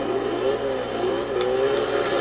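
A stock 2008 BMW M3 in the racing game Forza Horizon 2 revs its engine and exhaust, a loud continuous rasping drone that rises and dips over about two seconds, with no talking.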